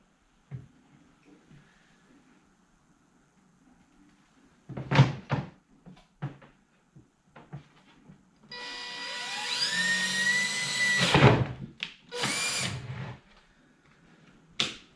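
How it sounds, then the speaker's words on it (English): A power drill whines steadily for a few seconds, drilling a hole in a Bass Tracker boat for a custom rod locker, close and loud, with clunks and knocks before and after. "let's go drill this thing out"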